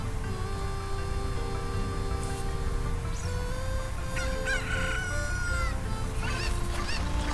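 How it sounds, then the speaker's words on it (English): Cuckoo chickens in the video game Zelda Ocarina of Time, heard while riding Epona through them: continuous clucking and squawking from the flock over dense, steady game background sound, with a few sharper squawks rising near the end. "I've decided to take it out on these cuckoos by running over them with Epona"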